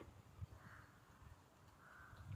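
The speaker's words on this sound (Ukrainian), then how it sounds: "Гави часто утворюють зграї разом з іншими птахами, воронами, граками, шпаками, сороками" Jackdaws call softly in the distance, with two faint harsh caws spaced apart over outdoor ambient noise during a daytime walk.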